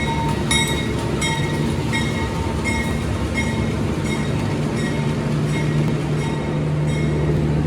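A Madiun Jaya passenger train rumbles at Purwokerto station, a loud continuous roar of rolling carriages with rhythmic wheel clatter throughout.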